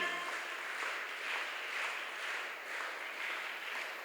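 A group at a girls' character-building and self-defence training camp opening ceremony clapping together, a steady wash of applause at moderate distance that rises and falls gently without pause.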